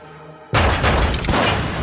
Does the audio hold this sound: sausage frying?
no